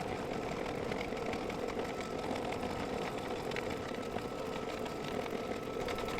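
An embroidery machine stitches a quilted border, giving a steady, continuous mechanical whir and rapid needle chatter at moderate level throughout, with no voices.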